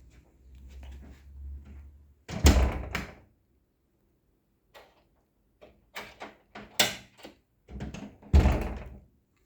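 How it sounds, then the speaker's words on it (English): A door thuds shut near a washing line with a hard, close slam, followed by several softer knocks and clunks of handling as it settles, with a low rumbling in the background beforehand. "shut door."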